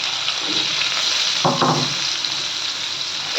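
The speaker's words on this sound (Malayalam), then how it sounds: "പിന്നെ കുറച്ച് സവാള ചോപ്പ് ചെയ്ത് അത് ഇട്ട് കൊടുക്കാം" Chopped onions frying in a pan with cumin for Kerala beef fry, a loud continuous sizzle with a brief clatter midway as they go in.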